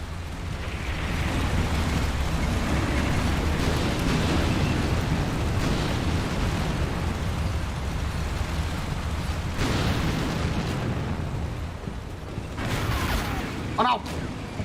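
Artillery barrage in Combat Mission: Cold War, a steady roar of distant explosions and rumbling booms running throughout, with a sharper burst near the end.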